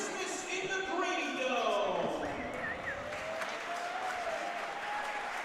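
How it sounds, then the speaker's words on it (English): High school varsity basketball crowd in a gym applauds and cheers before tip-off, a dense clapping wash with a commentator talking over it. "the crowd's getting excited"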